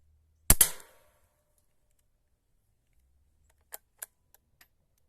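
A 1978 Romanian model 69 training rifle cycles its action with one loud, sharp metallic clack up close, followed after a pause by a few quieter clicks and ticks as parts settle and a cartridge ejects.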